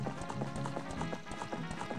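Horse hooves galloping in Zelda: Ocarina of Time, a quick steady clip-clop rhythm of repeated thuds over game music, close and fairly loud, with no talk.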